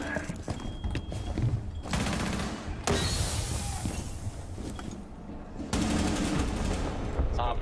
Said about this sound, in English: I was being shot from the ceiling like crazy, man